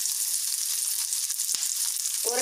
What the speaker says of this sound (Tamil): ஒரு கைப்பிடி சின்ன வெங்காயம் எடுத்து வதக்கிறதுக்கு போட்டு வதக்கிடலாங்க